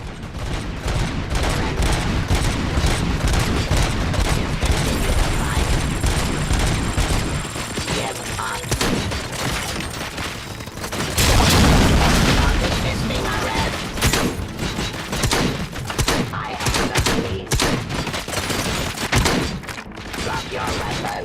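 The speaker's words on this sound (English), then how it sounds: "Gunshots? What's going on?" Rapid gunfire rattles through a RoboCop: Rogue City firefight in loud, dense bursts, with crashing impacts and a brief lull before heavy shooting resumes, and a voice briefly audible beneath.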